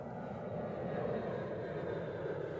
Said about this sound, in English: The sound of an airplane.